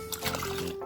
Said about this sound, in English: If you want, you can add a little bit of water to just rinse that in.